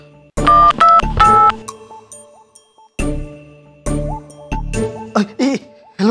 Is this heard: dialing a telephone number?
yes